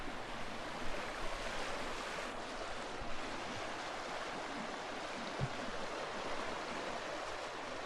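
Broad, continuous rushing of fast-flowing, high river water fills the whole clip, steady and loud with no voices, on the Siffleur Falls trail.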